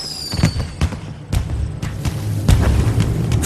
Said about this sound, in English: Fireworks? I thought you said they were detonators!